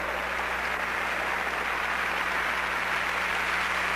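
A church congregation applauds in a steady, unbroken wash of many hands clapping at once. The sound is even and continuous, heard from a slight distance, with no individual claps standing out and no voices over it.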